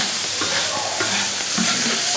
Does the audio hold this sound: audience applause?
no